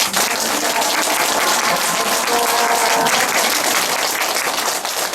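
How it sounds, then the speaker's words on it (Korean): A room of people at a meeting between North Korean defectors and former prime minister Hwang Kyo-ahn breaks into loud, sustained applause that continues evenly for several seconds, with faint voices mixed into the clapping. "서로를 위해서 응원의 박수를 부탁드립니다."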